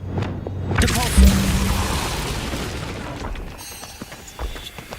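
A Depulso spell fired in the Hogwarts Legacy video game bursts out with a loud whooshing blast and a deep boom, then trails off into a rumbling tail over ambient game sound.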